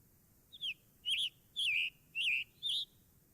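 A scarlet tanager sings five hoarse, burry whistled phrases in an even, spaced rhythm, clear and fairly close against a quiet background.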